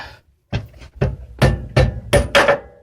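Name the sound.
smacking a bolt out with a mallet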